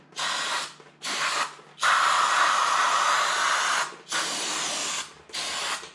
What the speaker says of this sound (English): Now I want to spray some brake clean on this stuff.